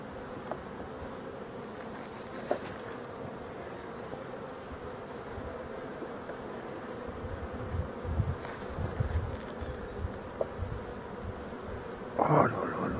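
A steady hum of honeybees buzzing around well-stocked hives, a continuous low drone with occasional louder passes of insects flying close by.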